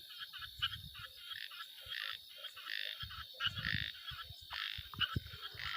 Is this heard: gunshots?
no